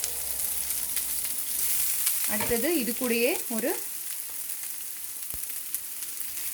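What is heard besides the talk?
onions frying in pan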